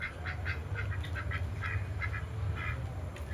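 Repeated duck quacks in quick irregular bursts, moderately distant, over a constant low hum with no talking.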